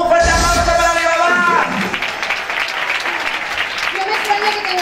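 A live audience at a children's music concert cheers and applauses loudly, dense clapping and crowd noise rising over a fading sung or spoken voice, then continuing as a voice comes back in.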